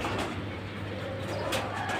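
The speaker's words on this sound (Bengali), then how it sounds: "এগুলো হলো আমার নিজস্ব কবুতর" Domestic pigeons of several kinds in a home loft, with low soft cooing under a steady background hum, fairly faint and continuous for a couple of seconds.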